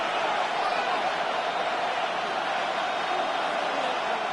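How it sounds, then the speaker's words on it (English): Steady crowd roar from a Madden NFL 26 football game, the Broncos playing the Bills on a third-and-long, a dense continuous wash of cheering with no breaks. "This crowd turning up the decibel level."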